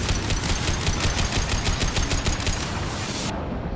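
Rapid automatic gunfire from Mass Effect 2, a steady stream of evenly spaced loud shots over dense rumbling game noise, cutting off just before the end.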